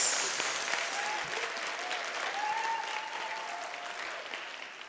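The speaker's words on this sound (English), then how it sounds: "May you give yourself a round of applause." A graduation ceremony audience at a UNISA autumn graduation claps in sustained, dense applause that holds steady for several seconds and then tapers slightly, with a faint voice briefly audible beneath it.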